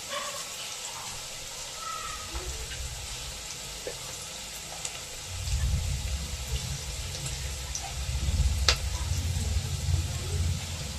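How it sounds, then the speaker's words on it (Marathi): Mutton is washed under running water in a home kitchen, giving a steady, close rush of water that grows fuller and louder halfway through, with faint clatter and no talk. "तर असं थोडंसं मटण धुवून घेते."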